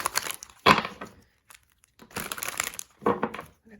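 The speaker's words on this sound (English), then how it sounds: "This is like an older deck, so it's a little bit harder to shuffle." Cards from an older, stiffer deck being shuffled, with a few short papery riffle bursts and crinkles separated by pauses, close and fairly loud.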